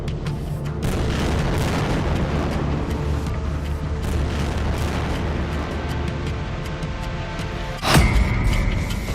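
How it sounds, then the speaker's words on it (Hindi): Bomb explosions from Israeli air strikes on buildings, a continuous heavy rumbling roar broken by one sharp loud blast near the end, with no talk. "इजरायल के तूफानी हवाई हमलों में बमों के धमाके ऐसे इमारतों को उड़ा रहे हैं"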